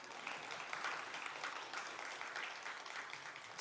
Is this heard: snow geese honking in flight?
no